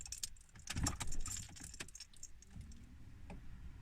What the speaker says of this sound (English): we will turn on the ignition